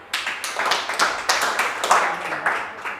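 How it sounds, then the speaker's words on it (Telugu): A Telugu stand-up comedy audience claps together in a burst of brisk, fairly loud applause that stays steady for about three seconds, with no speech over it. "ఒకసారి గట్టిగా క్లాప్స్ కొట్టేయండి."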